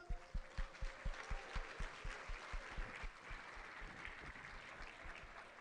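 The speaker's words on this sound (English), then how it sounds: "Let's keep giving him a round of applause." Applause at a city employee awards ceremony: faint, distant clapping in a steady rhythm that starts clear and regular, then thins and fades into a softer patter of scattered claps.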